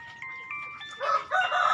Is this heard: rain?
no